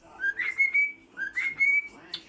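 A 10-year-old cockatiel whistles two matching rising-and-falling phrases, clear and close, followed by a short high chirp, with no talking.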